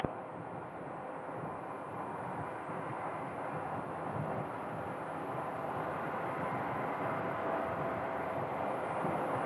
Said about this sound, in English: We have another aircraft that is crossing the runway right now, headed for that hangar on Mesa.